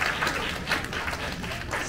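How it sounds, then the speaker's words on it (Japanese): A crowd at the Turtle Talk show at Tokyo DisneySea applauds in a short, fairly faint burst of mixed clapping with a slight swell partway through. "やるじゃないか、みんな拍手だ。"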